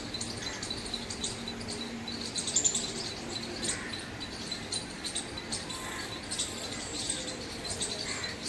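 Birds chirp on a quiet village morning, with a steady stream of faint, high, overlapping tweets and cricket-like trills against soft background noise.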